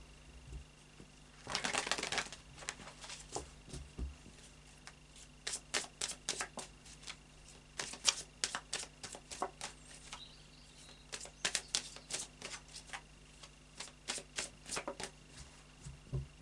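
A deck of tarot cards is shuffled by hand, quiet crisp riffles and flicks in irregular bursts, close and clear against a near-silent room.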